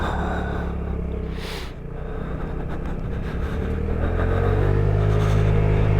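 A Vespa scooter accelerates across a parking lot, its engine a steady close rumble that builds and grows louder toward the end as speed picks up.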